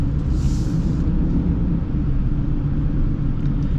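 A 2026 Ram 2500 Tradesman pickup with a 6.4L Hemi V8 pulls away, a loud, steady low rumble heard close inside the cab.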